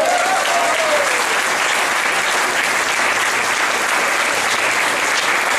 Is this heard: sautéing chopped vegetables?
no